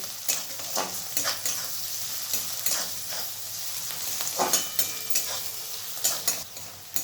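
Onions with chopped garlic and ginger fry in a pan while a spoon stirs them, giving a continuous sizzle broken by repeated scraping strokes and clacks, close and alone.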